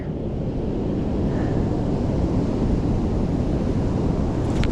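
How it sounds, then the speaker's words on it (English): Strong wind roars over crashing surf at sunset during a hazardous seas warning, gusts of roughly 40 to 60 miles per hour buffeting the microphone in a loud continuous rumble, no voices. "the winds are about 40 miles an hour, getting around 60 miles an hour"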